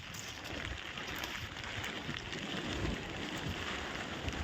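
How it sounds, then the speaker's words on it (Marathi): Steady rain falls outdoors, a dense, even patter and hiss spread across the whole stretch with no clear pauses, moderately loud and close, with no voices over it. "पाऊस आला पाऊस आला"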